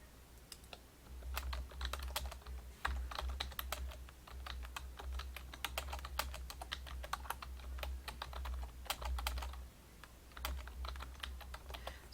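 Steady typing on a computer keyboard while writing hotel descriptions, a fairly close run of quick key clicks over about twelve seconds, with a low hum underneath and no talking.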